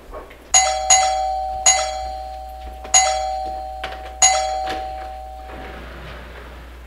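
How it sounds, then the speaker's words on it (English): A doorbell chimes four times at a steady pace, each bright ring ringing out and fading before the next, with a low hum underneath and no talk. "Oh, that must be the doorbell."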